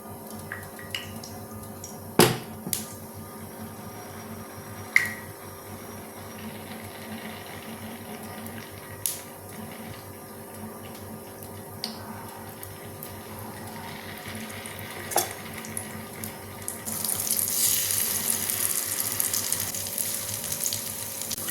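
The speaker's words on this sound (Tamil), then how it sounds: "பணியாரம் சண்டை அடுப்பில் வச்சு சட்டி காஞ்சிட்டு இந்த நல்லெண்ணெய் ஊற்றிக்குவோம்" Sesame oil poured into a hot paniyaram pan on the stove, starting with a few scattered clicks and taps, then breaking into a steady, bright sizzle of frying toward the end.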